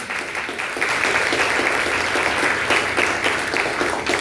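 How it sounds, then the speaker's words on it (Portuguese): A church congregation claps in sustained, dense applause, loud and steady for several seconds without any talk over it. "Você pode dar uma linda salva de palmas ao Senhor?"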